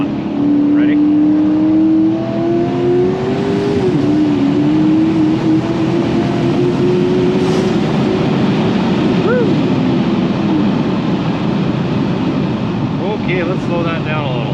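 A turbocharged Dodge Challenger SRT8 engine drones loudly and steadily from inside the car, its pitch sliding up as it accelerates, with a faint whistle and a brief voice near the end.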